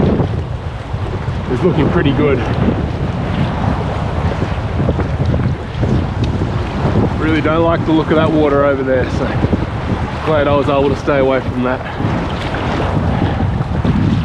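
Strong wind roars steadily across the microphone during a packrafting crossing on open water, loud and continuous throughout, with someone talking over it for much of the time.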